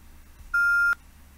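A single loud electronic beep tone, held steadily for about half a second, cuts into a recorded complaint phone call to NHK. It ends with a sharp click over faint line hiss.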